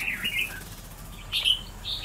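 Ngũ sắc songbird in a cage chirping softly, with short bright bursts of tweets separated by brief pauses and no talking.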